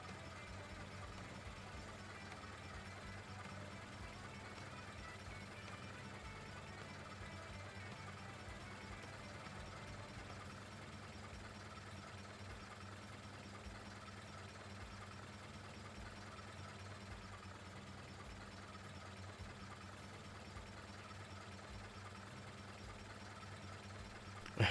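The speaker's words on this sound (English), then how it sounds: "Dressed as a farmer and driving a tractor." A video-game tractor engine idles and chugs in a low, steady drone, faint and unbroken throughout, with no voices.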